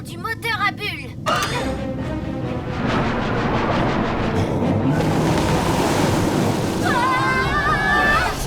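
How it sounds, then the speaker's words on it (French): Cartoon underwater craft's bubble engine thrown into reverse, a loud continuous rush of churning, bubbling water that swells after a brief spoken line and persists under later voices. "Inversion du moteur à bulles."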